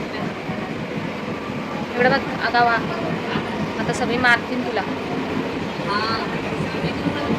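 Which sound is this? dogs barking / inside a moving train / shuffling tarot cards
inside a moving train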